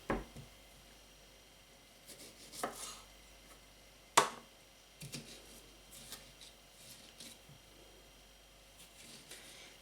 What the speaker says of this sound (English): take the stone out and then cut them into eighths, or just dice them